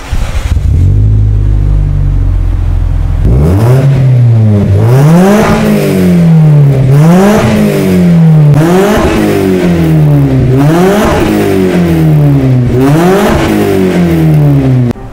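Toyota Vios car engine idling briefly, then revved repeatedly in a steady rise-and-fall rhythm, loud and close with a deep exhaust rumble, no talking.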